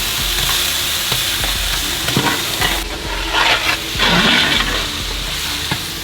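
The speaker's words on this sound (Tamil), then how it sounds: "வெங்காயம், இஞ்சி, பூண்டு எல்லாம் நல்லா வதங்கிருச்சு" Onion, crushed ginger, garlic and tomato sautéing in a pan, a loud steady sizzle with repeated spoon scrapes and stirring bursts close by, no talk.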